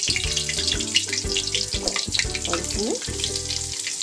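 Butter dropped into hot refined oil in a kadhai crackles and sizzles up close, with bright spattering bursts and some clattering over a steady hiss. A voice speaks briefly.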